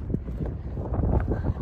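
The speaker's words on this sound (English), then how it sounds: "It's windy guys. It is. Oh, it's blowing on my face." Wind buffets the microphone outdoors with a continuous low rumble and uneven gusty swells, close and fairly loud.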